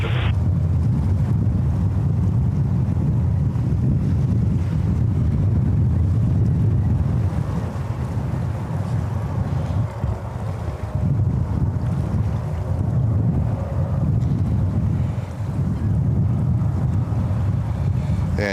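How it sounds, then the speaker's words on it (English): Strong wind buffets the microphone at a plane spotting spot by JFK airport in New York, a loud, continuous roaring rumble that swells and eases throughout with no clear voices. "thank God the wind calmed down a little bit."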